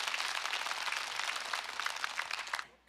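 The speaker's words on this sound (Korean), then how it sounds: "여러분은 두 분의 멋진 도전에 여러분 큰 박수 부탁드리겠습니다" Studio audience at a Korean TV singing contest applauding two challenger singers, a steady wash of clapping that holds for a couple of seconds, then fades out.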